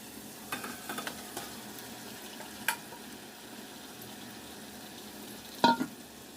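Marinated chicken for biryani fries with a soft, steady sizzle in a pan, broken by a few faint scraping stirs and one sharper clatter near the end.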